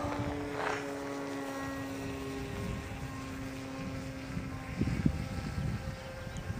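Small model aircraft with an undersized propeller flying at full throttle, a steady high-pitched whining drone with a clear tone, moderately distant and slightly louder as it passes near the end.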